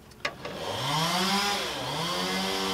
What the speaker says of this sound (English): And the chainsaw noise is thanks to the neighbors.